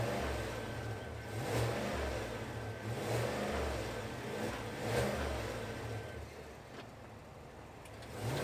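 A 2023 GMC Yukon Denali Ultimate's V8 revs in a few swelling pulses, a steady low rumble that rises and falls roughly every couple of seconds, heard from fairly close with no talking.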